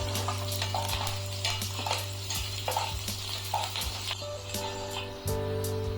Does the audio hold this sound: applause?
no